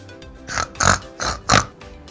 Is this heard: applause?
no